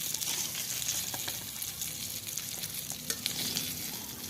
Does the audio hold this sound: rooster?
no